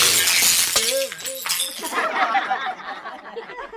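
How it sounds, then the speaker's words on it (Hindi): A glass held in a king's hand shatters in an animated comic story, a sharp crash followed by tinkling fragments, mixed with a sung wavering voice and busy background sound. "राजा के हाथ में थमा हुआ कांच का गिलास चकनाचूर हो जाता है।"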